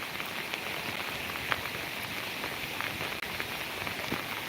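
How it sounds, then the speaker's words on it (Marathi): Rain falls near the Koyna dam as a faint, even patter and hiss, with occasional louder drops standing out against the steady wash. "आणि आता तुम्ही पाहू शकता इथे पावसाने देखील सुरुवात केलेली आहे"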